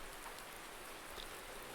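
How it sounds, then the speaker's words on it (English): Rain from the Farming Simulator 19 game patters steadily as a dense, even hiss of drops, soft and continuous with no other sounds over it. "Looks like we're in for some rain today."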